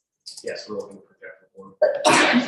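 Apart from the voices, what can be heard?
sneeze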